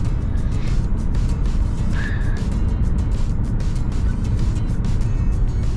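Steady car engine and road rumble heard from inside a moving car on a clear day, continuous and fairly loud with no talking.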